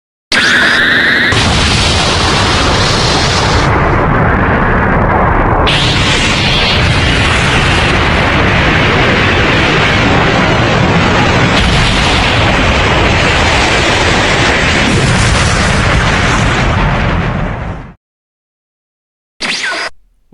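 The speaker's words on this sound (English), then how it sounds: "With one full power warped Kamehameha, Goku has defeated Kid Buu without the use of a spirit bomb this time" A loud, sustained energy-blast explosion from a full-power warped Kamehameha fired by Goku against Kid Buu in an animated fight, roaring continuously for about seventeen seconds before cutting out, followed by a brief burst.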